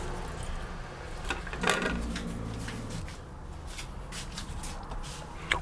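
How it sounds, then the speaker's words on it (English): Scallions are rinsed under running water, with a soft steady splash and rustling of wet leaves plus a few light clatters, fairly quiet throughout. "Wash scallion clean"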